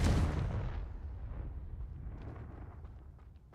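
Confringo fire spell in Hogwarts Legacy, a single heavy explosive boom that rolls off into a fading rumble with faint crackling debris, no talking.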